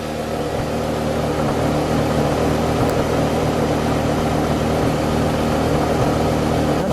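A yellow 2005 Porsche Carrera GT sits idling with a steady, loud, continuous engine rumble that holds even throughout, with no talking over it.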